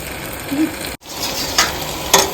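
Raw banana pieces sizzle in masala in a hot pan, a steady soft frying hiss broken by a couple of brief stirring scrapes.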